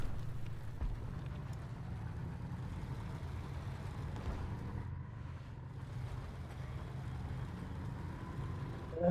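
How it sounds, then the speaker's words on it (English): Enemy tank engine in the War Thunder video game, a low rumbling drone running steadily throughout, moderately distant and fairly quiet, with a brief dip in the middle. "I clearly hear their engine."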